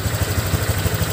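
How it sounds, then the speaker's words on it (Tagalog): Steady drone under the seat of a Honda Click 125 scooter, said to come from a loud fuel pump, with a low pulsing throb repeating evenly over a broad hiss, close and continuous. "Kung malakas yung ugong ng fuel pump at tunog."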